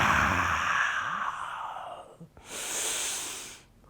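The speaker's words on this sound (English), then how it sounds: "Breathing here" A person breathes deeply while holding a yoga pose with the head back and jaw soft: a long, close, airy breath, then a short pause and a second steady exhale, with no talking.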